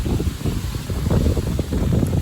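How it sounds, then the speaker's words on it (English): Strong wind buffets the microphone outdoors, producing a loud, continuous low rumble with uneven gusting pulses that fill the whole clip. "Super windy."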